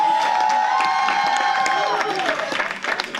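School board meeting audience applauding and cheering for a middle school volleyball champion team, loud crowd clapping with shouts and whoops, while a voice carries over the noise before the applause tapers.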